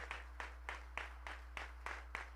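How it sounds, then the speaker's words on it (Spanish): A church congregation claps in a steady rhythm, about seven evenly spaced claps in a row, faint and distant over a low electrical hum. "Dele palmas al Señor esta noche"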